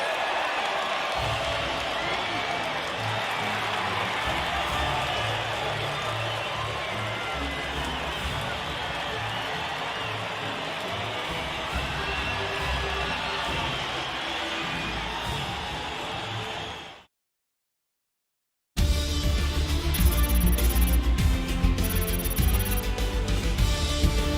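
Crowd cheering and applause roar steadily at the podium after a race at the Austrian Grand Prix in the video game F1 2020, loud and dense, then cutting to silence before music resumes.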